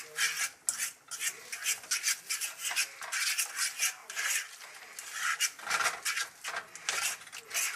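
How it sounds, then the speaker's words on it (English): A spatula repeatedly scrapes and presses scrambled omelette eggs around a pan, making rapid rhythmic scraping strokes close up, with bursts of rasping that rise and fall and no talking. "because I keep moving it and flattening it out, it stays fluffy"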